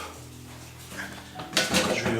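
Dishes and cutlery being unloaded from a dishwasher in a family kitchen: a low hum at first, then a burst of close clinks and clatters of plates and utensils near the end.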